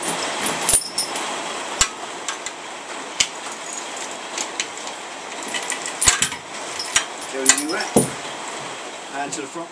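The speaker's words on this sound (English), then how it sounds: "Disc lock on the back first." A big Oxford disc lock being fitted to the rear wheel of a motorcycle, with scattered metallic clicks, clanks and sharp taps, close and moderately loud, while a faint voice murmurs in the background.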